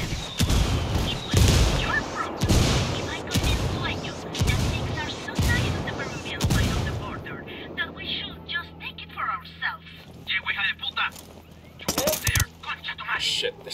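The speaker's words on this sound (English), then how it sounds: "I'm calling for indirect fire." An indirect artillery strike lands in the Ghost Recon Wildlands video game, several heavy booming blasts rolling one after another, then fading into quieter crackling and a late sharp burst, with game voices speaking over the first part.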